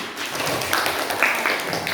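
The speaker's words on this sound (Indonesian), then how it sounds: "Nah, tepuk tangan." A classroom of pupils claps hands together during a maths lesson, a brief, dense burst of group clapping.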